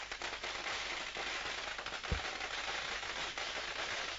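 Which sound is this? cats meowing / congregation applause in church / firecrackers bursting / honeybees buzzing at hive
firecrackers bursting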